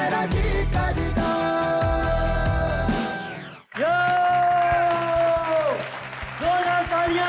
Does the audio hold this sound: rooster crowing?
no